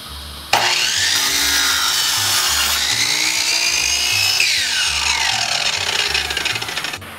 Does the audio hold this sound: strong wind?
no